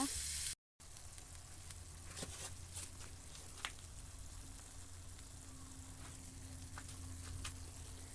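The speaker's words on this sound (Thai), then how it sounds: "ผัดไปจนกว่าหมูจะสุกนะ" Pork stir-frying in a pan gives a continuous quiet hiss and crackle of sizzling, with a few faint scrapes of a utensil and a low background hum.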